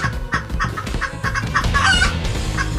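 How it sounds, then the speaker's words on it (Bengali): Cartoon chickens in a coop cluck and squawk in alarm, with agitated, overlapping calls and a crow rising near the end, close and fairly loud. "আরে, আমার মুরগিগুলো ডাকছে কেন?"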